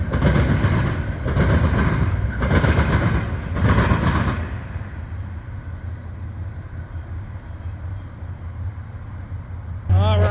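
A southbound Norfolk Southern coal train rolls past close by, its loud rumble carrying rhythmic clatter from the cars for the first few seconds, then easing into a steadier, quieter roar as the rest of the train goes by.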